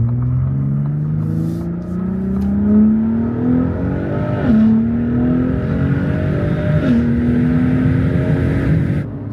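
Corvette engine and exhaust in Baja mode, revving with rising pitch sweeps and two sharp shifts or blips, loud and close, with no talking.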